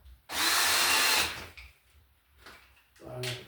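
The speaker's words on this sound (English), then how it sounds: "So I'm going to throw a little pilot hole behind it." A power drill bores a small pilot hole for a sheetrock screw beside an electrical box while wiring a GFCI-protected receptacle: one loud, steady whirring burst of about a second, followed by quieter handling clatter and a short final spin-up.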